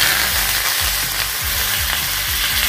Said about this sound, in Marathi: तेल गरम झालंय, थोडस मोहरी घालून घेणार आहोत, थोडस जिरं